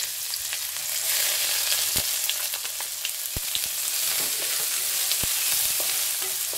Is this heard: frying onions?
yes